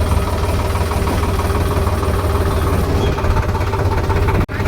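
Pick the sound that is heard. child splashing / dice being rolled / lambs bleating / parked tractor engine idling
parked tractor engine idling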